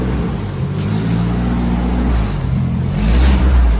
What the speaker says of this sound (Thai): เร่งกันนะ สองพันรอบไหม